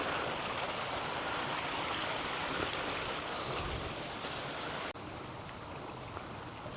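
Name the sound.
small waterfall running down near Beppu hot springs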